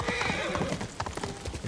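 A horse in the Ghost of Tsushima video game gallops with a quick, rhythmic clip-clop of hooves and gives a brief whinny near the start, loud and close.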